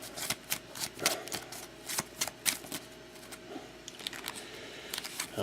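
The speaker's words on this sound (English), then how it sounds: "So I'll do some shuffling here." Trading cards being shuffled by hand for a box break team draw, a series of quick riffling bursts with short pauses between them, close and fairly quiet.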